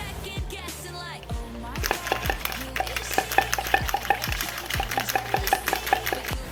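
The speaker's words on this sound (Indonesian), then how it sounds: "Kemudian, kocok alat hingga lampunya menyala seperti pada video ini." Magnet inside a pipe of a hand-shaken electromagnetic flashlight, rattling in rapid repeated clacks as the device is shaken, with a low voice speaking underneath.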